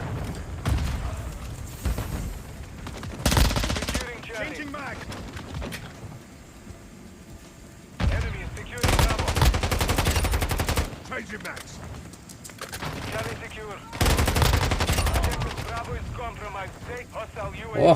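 Shotgun fire in Call of Duty Warzone, played on a Poco X6 Pro, comes as heavy blasts in three separated bursts with quieter game noise and movement in between.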